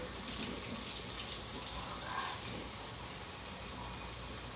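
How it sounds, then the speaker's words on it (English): Water running steadily from a kitchen tap, a continuous broadband hiss as cups are filled for cooking black rice, close and fairly loud with no talk. "So I'm going to use 3 cups of water."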